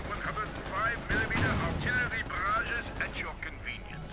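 Automatic rifle fire in the World War II strategy game Company of Heroes 2, repeated bursts of rapid shots and explosions at moderate level, heard under continuous commentary from a caster.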